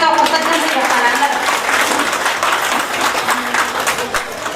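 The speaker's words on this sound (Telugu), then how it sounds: "మీరందరూ కూడా చప్పట్లతో కృతజ్ఞతలు చెప్పాలి అందరూ." A crowd claps in applause at the reopening of a municipal vegetable market, loud and sustained, with a voice talking over the clapping throughout.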